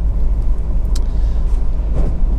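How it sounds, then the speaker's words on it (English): A Honda CR-V 2.2 i-DTEC diesel 4x4 runs at a smooth, even idle, a loud, close, steady low-pitched rumble with faint mechanical ticks and no voices. "engine starts absolutely instantly and settles to completely smooth, even idle"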